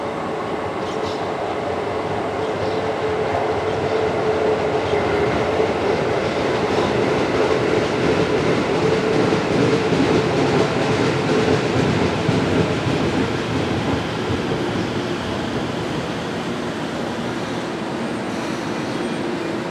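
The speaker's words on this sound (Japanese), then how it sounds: "西船橋行きが到着します。" Tokyo Metro 05 series subway train arriving at Nishi-Kasai station, with a continuous loud rumble of wheels and cars rolling in, steady and close, with no talk.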